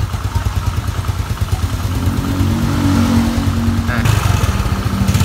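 A Yamaha Nouvo or Mio scooter engine revs up as the throttle is twisted, a loud near buzzing that builds and then drops back toward idle, with someone speaking briefly over it.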